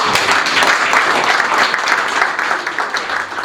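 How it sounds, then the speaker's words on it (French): A church congregation in a chapel applauds a guest named Bruno after a Pentecost Sunday celebration, a full, even burst of clapping that stays loud throughout. "on va applaudir Bruno, n'est-ce pas?"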